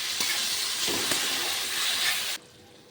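Salt, turmeric, cumin, chili powder and beaten sour yogurt sizzle in a pan for a small fish curry, a close, steady hiss that cuts off abruptly near the end.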